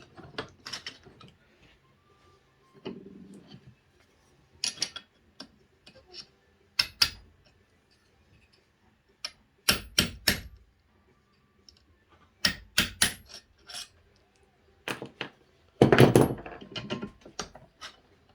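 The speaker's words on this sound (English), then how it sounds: "you want to take and drop the rear bearing out, and pretty simple. You're just going to punch it." A rear hub bearing is driven out with a hammer and punch: sharp metallic strikes arrive irregularly, sometimes in quick clusters, separated by quiet gaps.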